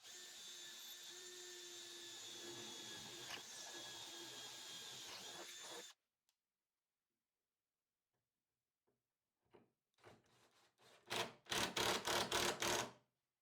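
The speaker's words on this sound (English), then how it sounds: "I'm just going to pre-drill some holes." A power drill whirs steadily for several seconds while pre-drilling pilot holes, then stops; after a pause, short bursts of drilling start and stop in quick succession.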